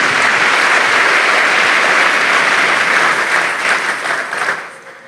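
Church congregation applauding together in a sustained, dense burst of clapping that fills the space, then tapers off toward the end.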